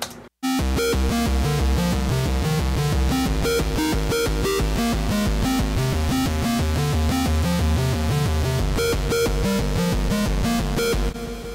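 Computer-generated music riff of short eighth-note chord stabs over a bass line underneath, steady busy rhythm throughout, no talk.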